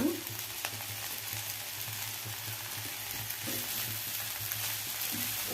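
Soaked, crumbly poha (avalakki) drops into a hot oiled pan for chitranna and fries with a steady, close sizzle, with occasional scraping stirs and no talking.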